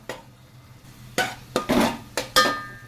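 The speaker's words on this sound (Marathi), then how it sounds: "आलं लसूण खोबरं, सुंदर सुवास येतो एकदम. हे साधारण 2-3 मिनिट चांगलं भाजून घ्या." Ginger, garlic and coconut masala roasting in a pan is stirred with a metal spoon, giving a few distinct scrapes and clinks against the pan over a quiet background, close and moderately loud.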